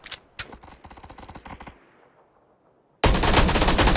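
Automatic weapon fire in the PUBG video game on the Miramar desert map: rapid bursts of shots that fade out, then a sudden loud, dense roar of noise that continues to the end.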